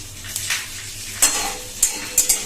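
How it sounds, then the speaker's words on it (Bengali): Two dried red chillies and a five-spice tempering crackle in hot white cooking oil, a bright sizzle broken by several sharp spatula scrapes and clinks against the pan. "ওই তেলের মধ্যে দিয়ে দেব 2টো শুকনো লঙ্কা ফাটিয়ে"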